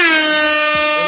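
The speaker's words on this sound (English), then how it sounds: "I guess we can hit air horns." A single loud air horn blast, a bright brassy sustained tone held steadily for about a second.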